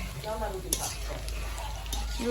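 Marinated chicken pakoras sizzle steadily in hot oil, with a continuous close frying hiss and occasional stirring clinks, no talk over it.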